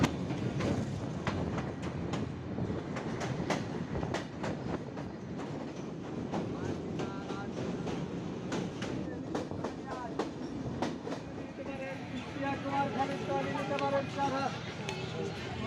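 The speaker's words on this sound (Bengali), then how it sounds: "চলুন আমাদের ট্রেন এই যে পোড়াদহ স্টেশন ছেড়ে যাচ্ছে।" Express train pulling out of Poradaha junction station, rolling rumble heard from inside with repeated clickety-clack of wheels over rail joints and a rising squeal of metal toward the end, while people talk nearby.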